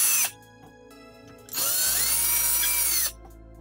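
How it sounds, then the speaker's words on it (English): A power drill reams out a pre-drilled hole as part of a Proxxon Thermocut upgrade, a short burst, then a longer steady whine lasting about a second and a half, close and loud with no talking. "I'm gonna ream that out slightly here."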